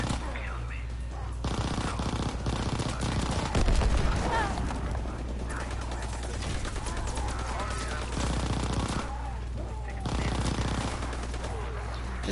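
Rapid automatic gunfire from hip-firing in a video game, long bursts of loud, continuous shots with brief gaps, up close, with players talking in between.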